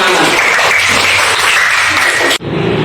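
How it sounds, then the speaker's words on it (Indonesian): Students applaud in a classroom after the final group presents, a loud, continuous wash of clapping that cuts off sharply near the end with a quieter tail. "Ya, tepuk tangan"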